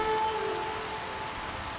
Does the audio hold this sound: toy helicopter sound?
no